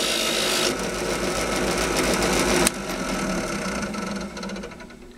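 A soft polishing pad on a power tool works a steel part with a steady whirring, rubbing buzz up close. The pitch and pressure shift partway through before the sound eases off.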